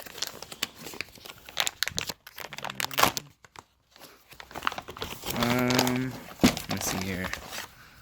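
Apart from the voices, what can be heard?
swag bag being opened and rummaged through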